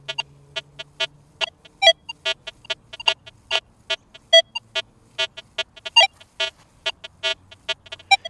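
Electronic tones from a Rutus Versa metal detector set to six-tone mode, giving short repeated beeps as it signals iron, a steady stuttering run of close, fairly loud pulses with no talking.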